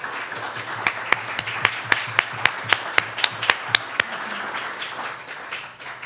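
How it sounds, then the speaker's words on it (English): Audience applause for political candidates at a 2018 legislative primary election debate: a dozen sharp, evenly spaced claps ring out over a room murmur, then fade away. "let's give our candidates a round of applause"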